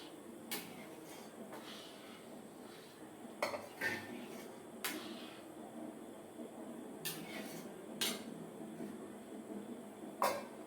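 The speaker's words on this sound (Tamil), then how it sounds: "ரவைய இதுல நம்ம கொட்டி கிளறோம்" Metal spoon scraping and clinking against a pot as ground semolina is stirred into boiling water for rava upma, with irregular sharp taps over a quiet simmering background.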